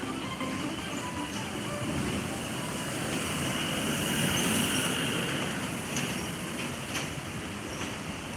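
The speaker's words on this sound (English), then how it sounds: "You can hear the trains rolling by above." Yamanote Line trains rumble overhead above restaurants under the elevated tracks near Shinbashi Station in Tokyo, a steady broadband roar with faint metallic clinks, continuous and moderately loud throughout with no talk.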